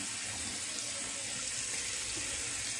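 Steady rush of water running from a tap into a sink while a face is rinsed, a constant broadband hiss close by with no pauses.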